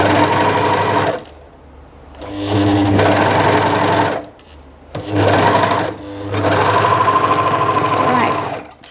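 An overlocker stitches elastic onto fabric in three loud, steady running bursts, its rapid mechanical whir broken by short pauses between the passes.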